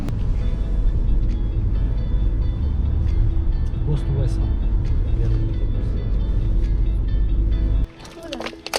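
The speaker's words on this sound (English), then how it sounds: "this DLR train is a bit wobbly" A DLR light-rail train rides along with a loud, steady low rumble and rattle of wheels on track, continuous until it drops off near the end.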